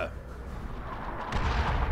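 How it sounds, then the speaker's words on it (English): Artillery strike in Dawn of War 2 Chaos Rising, a low rumbling blast that swells in the second half, booming beneath people talking casually over it. "Incoming artillery strike! Clear the target area!"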